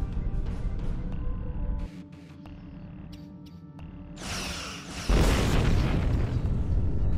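Starship weapons fire in a Star Trek Online space battle against an Undine planet killer, with rumbling booms, a sustained blasting wash, then a loud continuous barrage swelling to the end.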